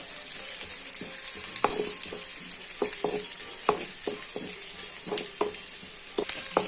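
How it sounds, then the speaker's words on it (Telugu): Green chillies and curry leaves fry in oil in a pan with a steady bright sizzle, broken by repeated clinks and scrapes as they are stirred, with no voices. "బాండీలో కొంచెం నూనె వేసుకొని పచ్చిమిరపకాయలు కొన్ని వేసుకొని బాగా వేయించుకోవాలా"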